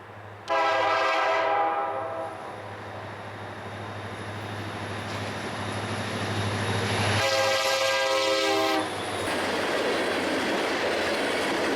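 BNSF freight train passing with a loud horn blast near the start and another later, over a steady rumble and clatter of rolling cars, close by and without speech.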